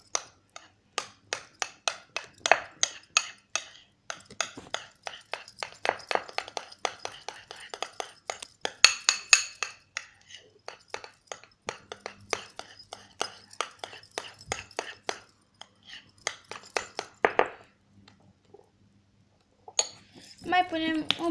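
Slime ingredients, shampoo and gel, stirred together with a utensil in a container, giving a steady run of close clinks and scrapes. Talk comes in briefly now and then.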